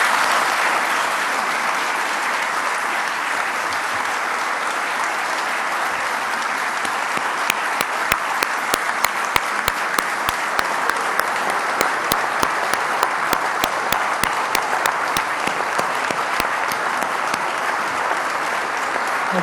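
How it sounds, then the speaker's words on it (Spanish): Sustained applause from a large crowd at a political speech fills the whole stretch, with rhythmic clapping standing out more sharply partway through. "démosle el aplauso más grande que tengamos"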